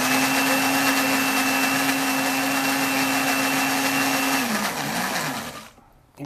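A blender whirs loudly at a steady high pitch mixing rice fritter batter with green herbs and onion, then slows and winds down to a stop near the end.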